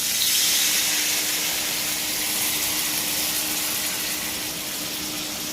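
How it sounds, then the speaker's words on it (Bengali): Water poured into a pan of spiced catfish curry with green banana and potato, a steady broadband gushing rush that stays close and even for the whole stretch with no voices. "এবারে জল দিয়ে দেবো"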